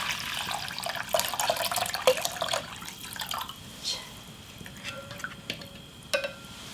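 Dashi stock pours into a pot for beef and vegetable porridge with an uneven, splashy liquid sound of moderate loudness, broken by a few clinks.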